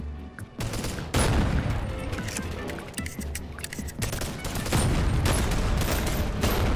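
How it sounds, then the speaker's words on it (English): Shotgun blasts in the VR video game BONELAB, a loud, dense barrage of booming shots and impacts that fills the whole stretch with steady noise. A brief spoken word cuts through near the start. "we're gonna need the shotgun to clear this room"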